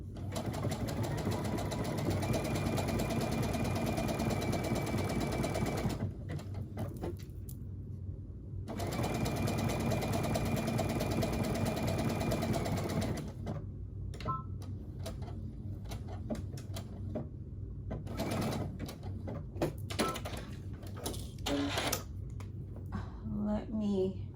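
A sewing machine stitches fabric in steady rapid bursts, stopping and starting, while sewing a Vogue 1835 pattern, with a person talking quietly at times between the stitching runs.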